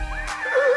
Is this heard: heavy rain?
no